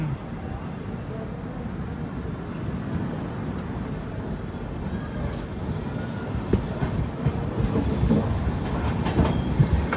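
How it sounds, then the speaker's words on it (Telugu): A long-distance special train pulls out of Tadepalligudem station and runs along the rails, a steady loud rumble with faint rhythmic clatter and occasional squeals building slightly toward the end. "తాడేపల్లిగూడెంలో ఆగింది బండి, బయలుదేరింది."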